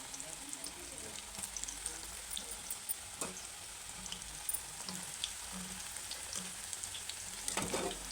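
Battered spinach pakoda frying in hot oil, a steady soft sizzle with faint bubbling and occasional stirring clinks, close up and unbroken for several seconds.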